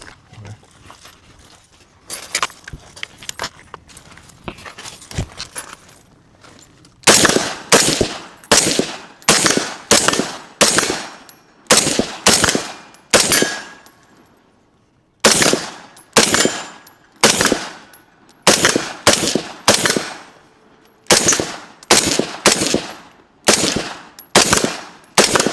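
Rifle gunfire at an outdoor shooting range with a Knight's Armament rifle: sparse shots at first, then loud, close strings of rapid shots in bursts with short pauses between.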